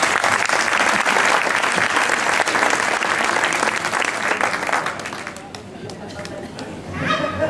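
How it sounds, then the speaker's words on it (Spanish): A festival crowd applauds a flamenco-style singer, dense steady clapping that holds loud for several seconds, thins briefly, then swells again near the end. "fuerte aplauso para Agapito."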